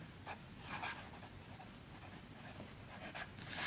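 Fountain pen with a fine nib, a Waterman Expert, writing on paper: close, soft scratchy strokes that come in short bursts with brief pauses, very quiet and alone.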